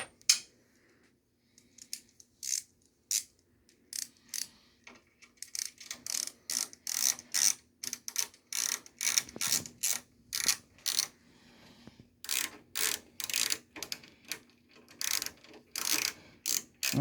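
A ratchet wrench tightens a nut down over a fender washer while a CO2 laser's Y belt is fitted, giving runs of sharp, close clicks in steady bursts with short pauses between strokes.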